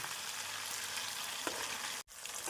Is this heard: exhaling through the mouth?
no